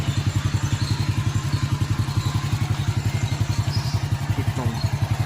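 A Honda Astrea motorcycle with an electric starter runs steadily at idle, its engine giving a rapid, even, close-up chugging pulse throughout with no voices.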